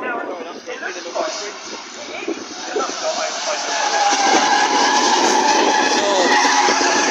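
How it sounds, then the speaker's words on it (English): Race car tyres squealing and skidding at Castle Combe race track, a loud sustained screech that builds and holds for several seconds, with engine noise and spectators talking nearby. "Oh, burnt some tyres!"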